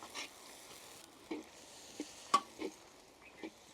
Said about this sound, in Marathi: कांदा आपण आता हलका ब्राऊन होतोपर्यंत असंच परतून घेऊ।